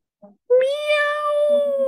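A kitten gives a single long, drawn-out meow, clear and close, preceded by a faint short squeak.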